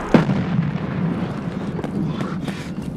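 A single sharp blast goes off in the shooter game Escape from Tarkov, fairly close, and trails into a rumbling, crackling decay with scattered smaller pops.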